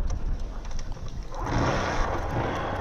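A Bajaj Pulsar 135 4V motorcycle is kick-started: a short stretch of mechanical rattling, then the engine catches and runs at a steady, close, rough idle.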